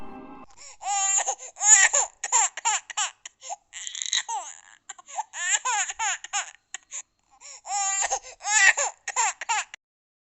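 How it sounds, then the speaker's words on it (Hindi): A baby's voice in repeated short bursts of crying and wailing, close by, with brief pauses between cries and no talk. "अचानक से रमा को पीछे से किसी बच्चे के रोने की आवाज़ आई।"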